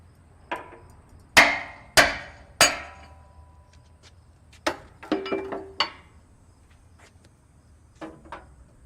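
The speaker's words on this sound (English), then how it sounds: "Now I drive the wedges." A hammer drives metal wedges on a Putzmeister concrete pump back-end kit: three loud, ringing strikes close together, then scattered quicker taps and a pair of lighter blows, with quiet gaps between and no talking.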